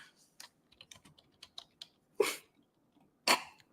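Typing on a computer keyboard, a run of soft scattered keystrokes in an otherwise quiet room, broken by two louder bursts that sound like a cough or sneeze.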